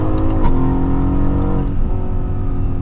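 Mercedes-AMG GT S V8 accelerating hard on a highway, a loud, steady engine roar rising in pitch close up, with a gear shift dipping and resuming about midway through.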